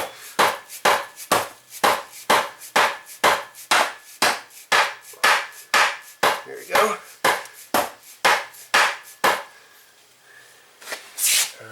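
A hammer strikes a Nissan Rogue transmission, working it loose over a block of wood set under the transfer case, in a steady run of about twenty sharp metallic knocks, close and loud, then a pause, one more hit and a brief spoken remark.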